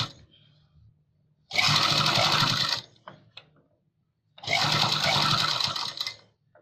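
A sewing machine stitches lace onto the back neck of a blouse in two steady whirring bursts of a little over a second each, separated by a quiet pause, close and fairly loud.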